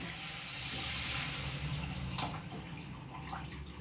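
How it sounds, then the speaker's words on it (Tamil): Soaking water from kudampuli (Malabar tamarind) is poured steadily into a pan, with a broad rushing splash that tapers off to a softer trickle, close by. "அந்த தண்ணியை மட்டும் ஊற்றுங்க அதில்"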